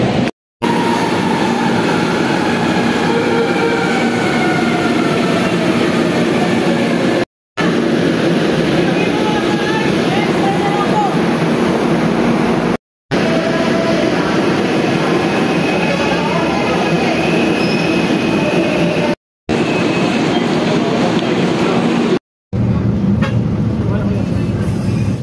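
Steady loud rumble of an MRT metro train at a crowded Philippine station during evening rush hour, continuous rolling and mechanical drone broken by brief cuts, with faint voices in the background.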